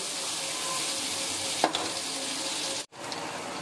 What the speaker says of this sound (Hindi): घी हमारा गर्म हो चुका है, अब इसमें प्याज डाल देंगे। प्याज को हम ब्राउन कर लेंगे।